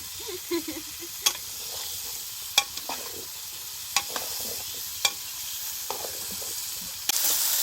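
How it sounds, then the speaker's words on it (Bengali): Vegetables sizzle in a hot pan while a spatula clanks and scrapes against the metal every second or so, close and steady. "সবজি কিন্তু মোটামুটি ভাজা হয়েছে।"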